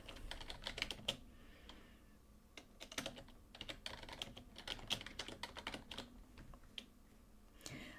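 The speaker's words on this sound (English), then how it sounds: "if you click on this box, it lets you type in here" Fingers type text on a computer keyboard, a steady run of quick, close plastic key clicks in irregular bursts with short pauses, and no voices.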